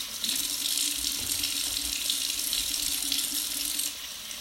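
Water runs steadily from a bathroom tap while cleanser is rinsed off hands and face, a close continuous hiss and splash into the sink that eases slightly at the end, with no voices.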